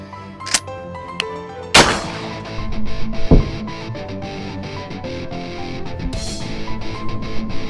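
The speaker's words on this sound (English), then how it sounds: "One shell of Hornady critical defense double op buck at 7 yards from a Benelli M4." A Benelli M4 shotgun firing one shell of Hornady Critical Defense 00 buckshot at a cheap ballistic helmet from seven yards, giving a single sharp loud blast with a metallic clang, followed by a lingering ring and softer rattles.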